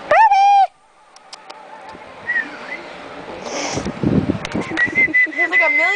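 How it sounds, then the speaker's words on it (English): A flock of birds by the ocean gives scattered, warbling whistles and cooing calls at middle distance. There is a loud burst at the start and a busy mix of short calls after it, with voices faintly in the background. "Look at the birds."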